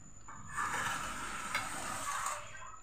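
Hot mustard oil in a frying pan giving a short, soft, close sizzle lasting about two seconds.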